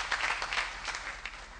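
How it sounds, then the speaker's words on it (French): A studio audience claps and cheers on a lively French-language entertainment show, a dense, steady wash of applause with scattered shouts lasting under two seconds at moderate distance. "Applaudissements, applaudissements, applaudissements"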